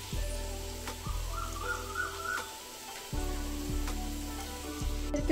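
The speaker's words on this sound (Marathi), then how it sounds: "आता कांदा मस्त लाल होईपर्यंत एका साईडला मी करूनच घेते." Onion frying in hot oil in a home kitchen, a soft continuous sizzle under a low rhythmic hum, with faint chirping in the background.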